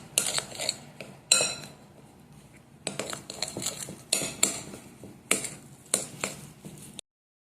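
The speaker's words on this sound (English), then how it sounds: "combine that as much as you can. Stir it all together." A spoon clinks and scrapes against a bowl while high protein cookie dough with peanut butter and protein powder is stirred together, in bursts of sharp metallic taps and grinding scrapes with short pauses between strokes.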